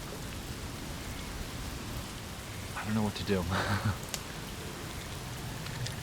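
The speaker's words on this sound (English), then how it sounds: "It's still raining, as you can see." Steady rain falls outdoors in a continuous soft hiss, with a few nearby splashes and a person speaking briefly in the middle.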